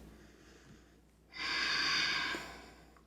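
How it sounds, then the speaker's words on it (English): One heavy, forceful exhale through the nose and mouth during a strength and stretch yoga workout, close and loud for about a second against quiet background. "You can probably hear my heart rate is getting up there. My breath is getting a little bit shallow."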